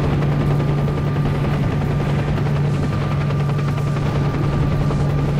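Military helicopter rotor drone with scattered gunfire in S.T.A.L.K.E.R. Shadow of Chernobyl, a steady loud hum filling the whole stretch with faint crackling shots mixed in.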